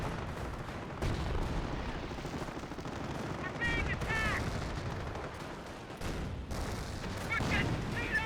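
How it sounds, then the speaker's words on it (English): Mortar blasts and rattling gunfire fill a Company of Heroes battle, with dense overlapping shots and booms continuing throughout and small whistling effects, all under a voice. "Mortar at close range firing away."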